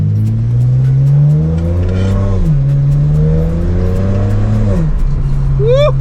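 A BMW fitted with a VRSF exhaust revs hard and drops through downshifts, its loud engine note rising and falling in steady sweeps before a sharp burst near the end, with faint voices underneath.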